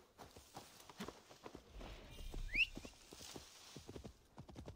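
Soft hoofbeats of a horse in the video game Assassin's Creed Valhalla clop in an irregular walking rhythm, faint and close, with a brief squeak in the middle.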